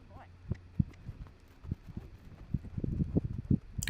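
A horse trots during a riding training session, its hoofbeats a soft, regular series of low thuds that grow busier toward the end. There is faint wind noise and no clear talking.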